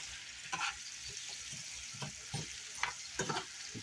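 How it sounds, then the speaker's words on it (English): Food frying in a pan is stirred with a utensil, producing soft scraping strokes roughly every half second over a faint, continuous sizzle, with no talking. "Stir it up a little bit."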